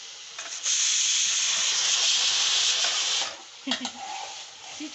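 A pressure cooker of rice lets out a loud, steady hissing whistle for about three seconds, then stops, leaving faint kitchen clatter and a brief murmur of a voice.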